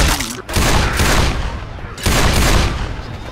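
Rapid bursts of gunfire from the shooter game Left 4 Dead crack and rattle in two loud clusters separated by a brief pause, dense and close with no speech.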